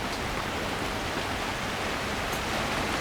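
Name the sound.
rain falling on tarps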